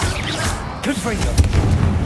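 A Confringo spell explosion in the Hogwarts Legacy video game lands with a single low boom under game voices and clashing combat effects, followed by a few smaller crackling hits.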